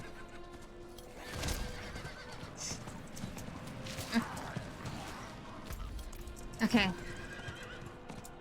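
A horse in Diablo IV gallops with rhythmic hoof clip-clops and lets out neighs, including a sharp whinny near the end, as a player speaks briefly.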